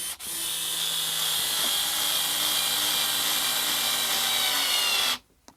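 A Leader cordless screwdriver driving a small fastener whirs steadily and closely with a constant motor whine for about five seconds, then stops abruptly; no talking.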